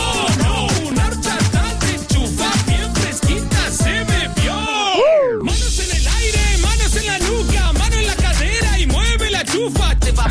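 A summer song plays loudly and continuously, with a pounding rhythmic beat and bright layered melodic lines and no talk over it.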